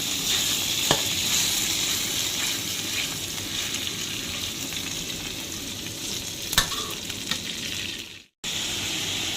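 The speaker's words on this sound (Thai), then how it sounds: "ผัดด้ลย ใส่หมูลงไปครับ ผัดให้สุก" Pork stir-fried in a pan for a Thai pad cha, giving a loud, constant sizzle with occasional spatula clacks and a brief drop-out near the end.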